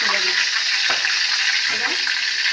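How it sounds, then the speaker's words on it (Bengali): A fish head fries in hot oil in a home kitchen, giving a dense, steady sizzle with a couple of soft utensil scrapes, close and fairly loud. "ওই মাছের মাথাটা ভেজে নিই"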